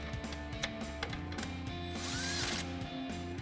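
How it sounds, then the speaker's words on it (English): An impact wrench with a 12mm socket tightening a caliper bracket bolt on a 2005-2023 Toyota Tacoma, short rattling bursts with clicks and a brief louder whirring hammer near the middle, fairly quiet and close. "Then we can tighten it back down using our 12mm socket on our impact."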